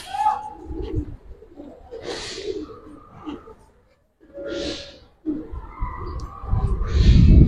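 Giribaz pigeons coo softly in low bursts at a breeder's collection, mostly beneath close voices talking in between.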